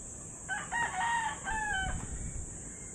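A rooster crows once in a drawn-out, tonal call lasting over a second, heard at moderate distance on a farm with faint background noise and no talk.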